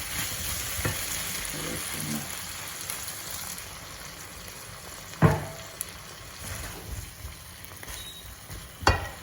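Sizzling and bubbling from a pan as water from parboiled noodles is poured in, with a constant frying hiss and a couple of sharp clanks from a utensil.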